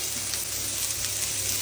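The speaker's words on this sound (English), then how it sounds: "So once they're chopped up, I'm just going to stick them in a hot oil pan." Chopped onions sizzle in a hot oil pan, a steady close crackling hiss that holds evenly throughout with no talking.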